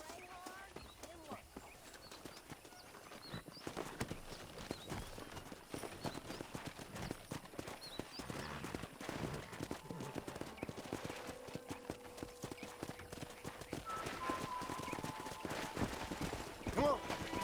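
Horse hooves clip-clop in the Red Dead Redemption video game during a horse-wrangling scene, a steady rhythmic trotting with occasional whinnies, game music and ambience underneath.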